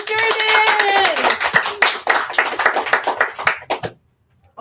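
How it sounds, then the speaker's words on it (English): Audience clapping for an artist at a live art auction, a dense burst of applause mixed with voices and a harmonic whistle or cheer at the start, thinning into scattered claps before ending abruptly. "Big round of applause for Jordan!"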